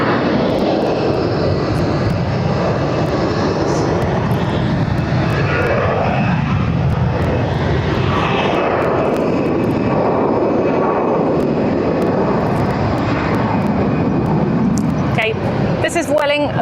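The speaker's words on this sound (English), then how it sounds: "This is Vueling going to Naples that just departed" Vueling airliner departing Barcelona airport for Naples, a loud continuous engine roar that swells and fades over the whole stretch, with a person talking faintly underneath.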